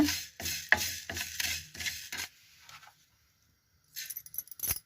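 Ginger and garlic dry roasting in a pan without oil, stirred in quick rhythmic scraping strokes for about two seconds, then near silence before a few more clattering stirs.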